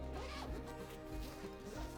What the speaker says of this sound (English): And then it just zips shut while I do that.